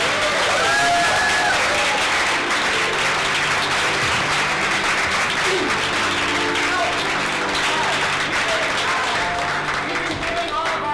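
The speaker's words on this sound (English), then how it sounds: "let's do a big round of applause for our two guests" Sustained applause from a theater audience at an improv show, dense and steady throughout, with a few voices and cheers mixed into the clapping.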